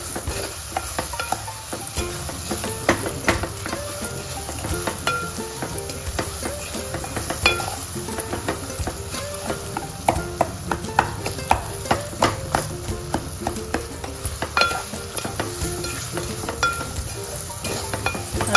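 Bananas sauté in ghee with semolina and dry fruits for a sweet temple offering, a steady sizzle broken by repeated scraping and knocking strokes of a spatula stirring the pan, close and clear.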